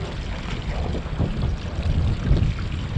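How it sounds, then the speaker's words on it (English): Wind buffets the microphone on the water during a fishing trip, a loud rumbling gusty roar with faint lapping beneath. "It's windy today."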